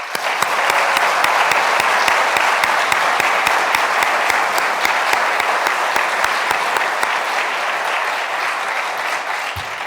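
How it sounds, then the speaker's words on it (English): An audience at a bicentennial opening ceremony applauds for Al Miller in one sustained, dense round of clapping that holds steady for about ten seconds before easing slightly. "please join me in giving Al Miller a big round of applause"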